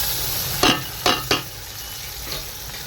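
Tomatoes and spices frying for chicken biryani, with yogurt and chicken added: a steady close sizzle broken by three quick scraping stirs of a utensil in the pan, and no voices.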